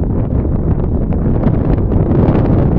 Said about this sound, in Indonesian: anginnya kencang ini bro, kencang banget.